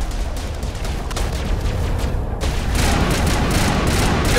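Rapid, steady bursts of gunfire from a gun in Mass Effect Legendary, with booming impacts. The firing is close and loud, continuous throughout, and grows denser toward the end.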